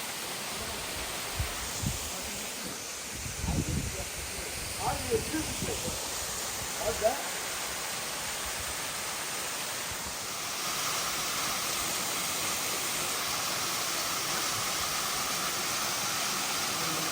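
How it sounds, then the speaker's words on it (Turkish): Waterfall with people swimming nearby, a steady broad rush of falling water continuing throughout, with a few brief voices and splashy bursts early on before the roar thickens slightly later. "Şelale gerçekten güzelmiş."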